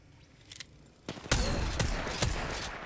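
Gunfire rings out in an Apex Legends match: a faint early shot, then a string of sharp, loud rifle cracks spaced irregularly over a continuous noisy battle backdrop.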